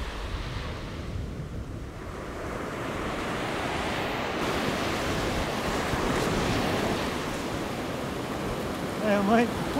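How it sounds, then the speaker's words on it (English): Steady roar of ocean surf where an outgoing river meets the incoming sea at a beach, a continuous broad wash with wind buffeting the microphone throughout. "Now the outgoing river is meeting the incoming ocean."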